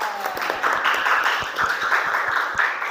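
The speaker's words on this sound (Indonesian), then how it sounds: "tepuk tangan." A classroom of pupils clapping for a group that has just presented, a brief scattered round of hand claps with individual claps audible and some chatter among the children.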